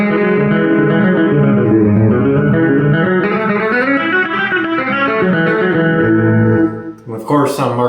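A PRS SE Mark Holcomb signature electric guitar played with a clean tone and a touch of reverb through a Spark amp, sustained chords ringing close and loud for several seconds before fading.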